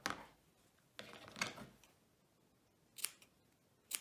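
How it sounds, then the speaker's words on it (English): Scissors snipping fabric while making a patchwork quilt, several crisp close cuts in a quiet room at irregular intervals, no talking. "So all you would do is cut some fabric"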